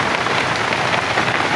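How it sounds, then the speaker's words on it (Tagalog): Heavy rain pounds steadily on a tarpaulin shelter, a dense, loud, unbroken patter with no voices. "Perting kusog ang ulan mga idol oh."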